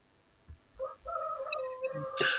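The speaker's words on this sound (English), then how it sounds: "I can hear the YouTube chicken." A rooster crows once, faint and tinny, played back from a YouTube video in the background, rising into a drawn-out call with a few soft thumps before it.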